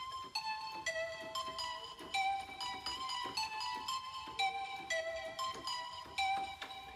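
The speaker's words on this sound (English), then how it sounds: "one of the main elements that we added all the way from the beginning is a synth, which is here." A synthesizer plays the melody of a remix: a clear, steady run of bright sustained notes that step up and down in pitch, with no voices.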